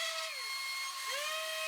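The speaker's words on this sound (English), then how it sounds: "we will just do a quick little sanding there" A power sander works over small cut-out wood pieces, a steady close whine whose pitch dips as the load changes, then climbs back up and holds.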